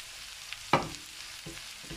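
Rice fries in oil with other ingredients for chicken fried rice, giving a faint, steady sizzle broken by one distinct utensil knock and a couple of softer scrapes.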